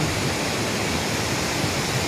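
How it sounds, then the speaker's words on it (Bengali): A waterfall near Ranchi in Jharkhand pours without a break, a dense, steady roar of falling water that fills the whole scene with no other sounds. "অসাধারণ ফলস, কন্টিনিউ জল পড়তে আছে"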